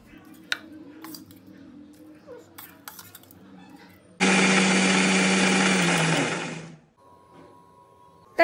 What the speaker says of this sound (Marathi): मी आता इडली रवा जो मी काल रात्री भिजू घातलेला तो मिक्सरमधून चांगल्या प्रकारे दळून घेणार आहे.